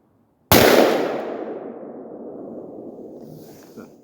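A single sharp rifle shot from an AR-15 fired one-handed outdoors cracks loudly up close, followed by a long rolling echo that fades over several seconds.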